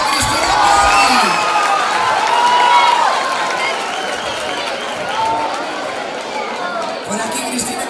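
School talent-show audience at a high school event applauds and cheers for a performer, a loud, dense roar of clapping, whoops and children's shouts that swells early and then holds steady, with voices mixed throughout.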